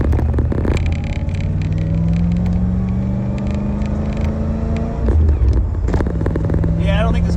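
A Trans Am engine running rough with an out-of-tune carburetor, a loud in-cabin rumble whose pitch rises and falls as it pulls and stumbles, breaking up unevenly, with people talking over it.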